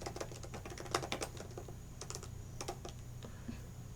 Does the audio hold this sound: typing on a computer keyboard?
yes